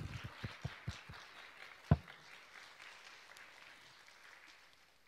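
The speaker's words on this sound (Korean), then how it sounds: "다 같이 박수 한번 부탁드리겠습니다" A handful of scattered claps from a small audience at a research administration presentation session, a quick run of distinct claps, then one louder clap before it fades into quiet room tone.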